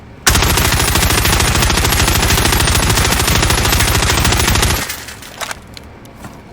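A FARA assault rifle fires in Call of Duty: Warzone as one sustained, rapid automatic burst lasting about four and a half seconds, loud and close, then it cuts off into quieter game ambience.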